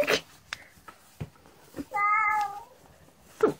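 A kitten meows from inside a trench coat: one clear, drawn-out meow in the middle, with short bursts of nearby human voices before and after it.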